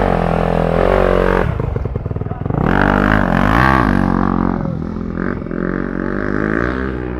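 A Yamaha off-road dirt bike engine roars loud and close, revving up and down as it rides, with rattling clatter and no talking.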